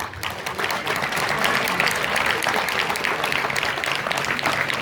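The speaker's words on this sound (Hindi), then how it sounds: "तालियां क्यों रुक रही हैं?" Sustained, loud applause fills a hall at a disability day celebration and awards ceremony, dense clapping from a large crowd that holds steady throughout.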